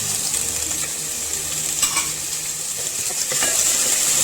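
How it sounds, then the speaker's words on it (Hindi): Chopped garlic and a teaspoon of chopped ginger sauté in a hot pan with steady frying hiss and a few light stirring scrapes throughout, no voices. "अब इसके अंदर हम ये चॉप लहसुन डालेंगे और अदरक 1 टीस्पून जो चॉप किया था"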